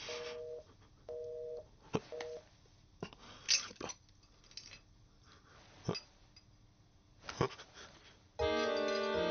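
Telephone tones in a movie comedy scene: a few short repeated beeps at the start, then scattered clicks and quiet movement, ending with a steady dialing tone that holds to the end.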